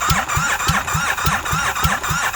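A 2007 Kawasaki Vulcan 1500 Classic engine cranks over with no fuel hooked up, a loud, rhythmic chugging of about eight even strokes over the starter's whine, close by.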